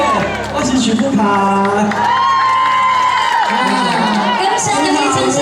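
A concert audience at a temple evening gala in Tainan cheers and applauds, with whoops and shouts over a loud crowd roar and sustained tonal sound, likely music, running throughout.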